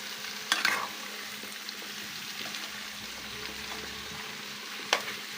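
Cut taro stolons stirred with oil and onion in a pan: a soft, quiet sizzle with two sharp clinks of a utensil against the pan, close by, without speech.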